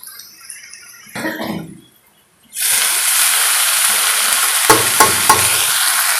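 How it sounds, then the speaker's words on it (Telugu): Boiled corn tipped into a pan of browned frying onions, a brief rustle and clatter followed by a loud, steady sizzle with a few stirring knocks, close up and without talk. "ఇప్పుడు మనము ఉడకబెట్టి ఉంచుకున్న మక్కలు వేసేయాలి ఇందులో"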